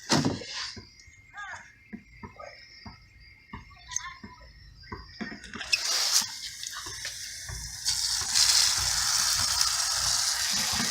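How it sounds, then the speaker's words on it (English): Water sprays and splashes onto a K&N reusable engine air filter being rinsed, starting as sporadic clicks and spurts, then turning into a steadier hiss of running water. "I'm going to turn down the water pressure for this."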